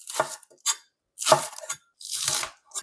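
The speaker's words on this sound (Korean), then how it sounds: "파는 어슷 썰어주세요" Green onion sliced diagonally into thick pieces on a cutting board for spicy croaker stew, three bursts of crisp knife strokes close up with short pauses between them.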